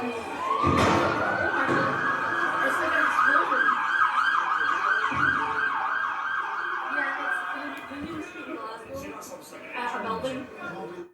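A wailing fire service siren rises and sweeps up and down close by for several seconds, then fades, while people talk over it with occasional thuds and street noise.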